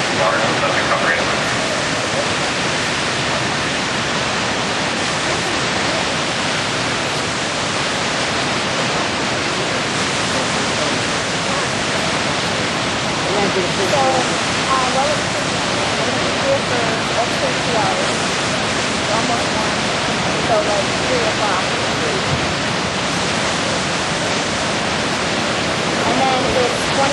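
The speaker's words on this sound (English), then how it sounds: "You're going to see the water coming in front of us first, then it'll make its way down on the left-hand side." Water rushes steadily into an Erie Canal lock chamber, a loud, unbroken roar of churning flow that fills the whole stretch without letup.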